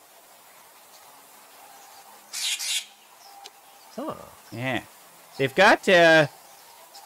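Racket-tailed treepie giving shrill, harsh calls: a burst of scratchy noise, then several rasping, descending notes and a loud final pair of harsh calls, close and clear over a quiet background, with brief talk at the start.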